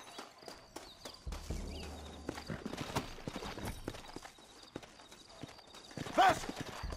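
Horses in the video game Red Dead Redemption, rapid hoofbeat clip-clop moving at pace, mid-distance and fairly loud, joined by a short whinny near the end amid game ambience and shouted voices.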